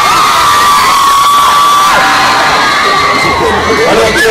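A large crowd cheers and shouts continuously at the Cannes Film Festival red carpet, a loud, dense wall of voices with high whoops and children's shrieks rising above it.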